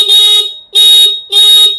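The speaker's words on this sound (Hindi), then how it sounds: "स्प्लेंडर के अंदर देखिए कंपनी जो हॉर्न देता है वो नॉर्मल साउंड के लिए देता है।" Stock horn on a Hero Splendor motorcycle sounds three loud, close blasts, each about half a second long with short gaps between them, a bright steady electric beep with nothing else heard.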